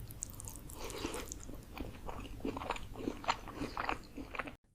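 Close, crisp biting and crunching with wet chewing repeats in an uneven rhythm, from an AI-generated eating ASMR scene, loud and intimate with no talk, ending in sudden silence.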